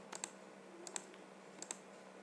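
Quiet, crisp clicks on a computer keyboard come in three short bursts of two or three keystrokes each, over a faint steady room hum.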